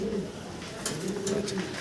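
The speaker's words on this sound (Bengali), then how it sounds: "কবুতর।" Pigeons coo nearby in low, repeated throaty phrases, heard twice over a short stretch alongside brief rustling clicks and a faint background murmur.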